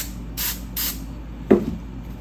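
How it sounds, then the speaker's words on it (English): Spray glue hissing from a can onto vinyl during interior installation of a 1970 Triumph TR6: two short close bursts followed by a rougher third spray, with quiet between. "now we're gonna spray glue on here and on the outside"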